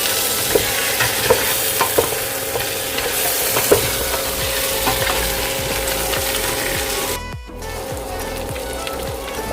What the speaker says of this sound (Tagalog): At pino mga Kabusing, pamintang pino. At haluin ulit mga Kabusing.